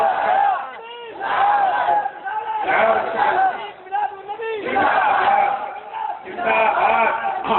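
Large crowd at a devotional naat gathering loudly chanting slogans in unison, with repeated rising shouts swelling in waves across the clip and dense voices throughout.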